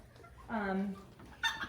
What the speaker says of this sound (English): We have a hen and a rooster in this one.